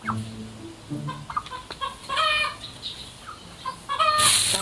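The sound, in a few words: chicken clucking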